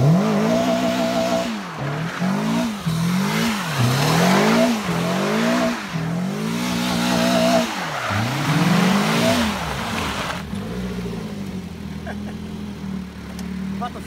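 A Caterham 355R sports car drives hard, its engine revving up and down through repeated loud rising sweeps as it shifts gears, then settling to a lower drone.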